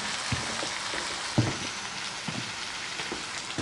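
Wild hog meat simmering in a covered pot over a camp fire, a steady close sizzle and bubbling hiss with a few brief knocks.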